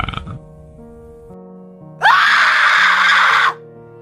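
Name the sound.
woman screaming from inside a room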